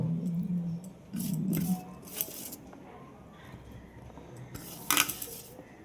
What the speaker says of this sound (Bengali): আমি দেখো ঢাকনাটা খুলে তারপরে আবার ঝাঁকিয়ে নেব